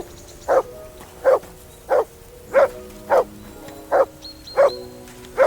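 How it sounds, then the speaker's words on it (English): A dog barks in Kingdom Come: Deliverance II, about eight sharp, evenly spaced barks close up and loud, with a faint background ambience and no talking. "Say something to that dog."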